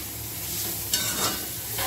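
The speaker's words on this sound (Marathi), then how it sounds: "आता खिसून घेतलेलं बीटरूट आहे ते घालायचं आहे आपल्याला। मिक्स करून घ्यायचं सर्व।" Grated beetroot is stirred into a hot cooking pan, giving a steady sizzle and a couple of scraping stirs of the spoon, close and fairly loud throughout.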